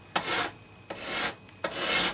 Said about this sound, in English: I'm going to blend it in with just using the scraper because this seems to work pretty good